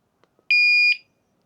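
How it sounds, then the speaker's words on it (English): A cheap motorbike displacement-sensor anti-theft alarm sounds one short, loud, shrill electronic beep lasting about half a second, preceded by two faint clicks and followed by silence. "the alarm goes off when you press this"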